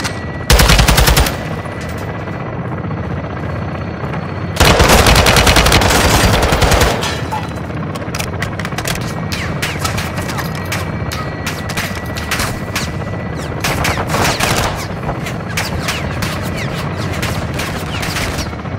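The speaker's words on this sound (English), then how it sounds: "Taking belt-fed fire from beneath the tower." Belt-fed machine gun fire in Call of Duty: Modern Warfare 2 comes in loud sustained bursts, two heavy volleys early followed by sparser rattling shots and ongoing battle noise.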